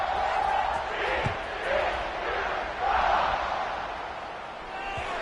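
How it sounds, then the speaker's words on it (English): Stadium crowd at a Baylor football game buzzing steadily before a kickoff, a broad roar that swells and eases in waves, with a few faint thuds under it. "this crowd is buzzing after that last score"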